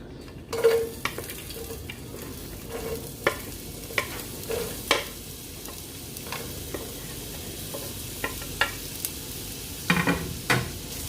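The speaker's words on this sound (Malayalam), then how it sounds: "അതൊന്ന് ചൂടായി വരുമ്പോഴത്തേന് നമുക്ക് അരിഞ്ഞു വെച്ചിരിക്കുന്ന ഇഞ്ചിയും വെളുത്തുള്ളിയും സവോളയുടെ ചെറിയ കഷ്ണവും കൂടെ ഇട്ട് നമുക്ക് നന്നായിട്ട് വഴറ്റിയെടുക്കാം" Chopped ginger, garlic and small onion pieces sauté in hot coconut oil, a close, continuous sizzle broken by repeated spatula scrapes and taps against the pan.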